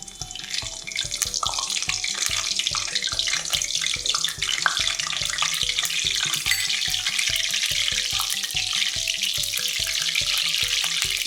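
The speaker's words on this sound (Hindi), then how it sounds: "मैं इसमें गोभी फ्राई कर रही हूँ।" A whole cauliflower fries in hot oil in a kadai, giving a loud, steady, dense sizzle and crackle that runs unbroken throughout, with no voices.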